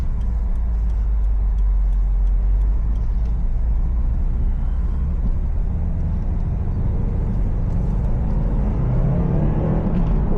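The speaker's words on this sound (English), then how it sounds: "Like I put it down, second gear, it just went." A 2018 Subaru WRX STI accelerates hard in second gear on a winter road, its engine a loud, steady, dense roar with heavy low rumble throughout and no talk.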